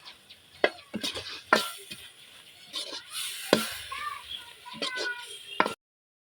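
Spoon stirring and mixing coriander powder, garlic paste, ginger paste and onion paste with brain for a bhuna, with irregular scraping knocks against the pan and soft sizzling, then silence at the end.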